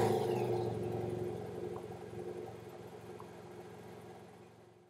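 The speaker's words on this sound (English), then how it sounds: "We'll be starting the motorcycle for this." A motorcycle engine running at a low, even idle, a faint steady rumble that slowly fades over a few seconds, with no talking.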